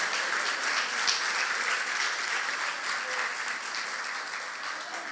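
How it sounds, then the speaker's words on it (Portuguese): A church congregation applauds together in a steady, dense wash of clapping that holds at an even level throughout, with no voices breaking through. "Dá para aplaudir ao Senhor por isso, não?"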